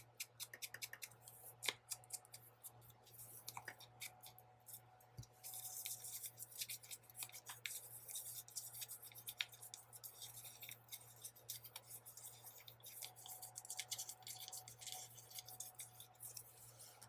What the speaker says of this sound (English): Make a little bit more controlled rips with scissors.